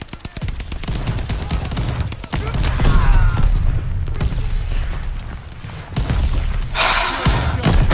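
Mortar strikes and gunfire in Call of Duty: Vanguard multiplayer, loud rapid bursts and heavy thuds layered over each other, with a brief explosive burst near the end and players talking over the action.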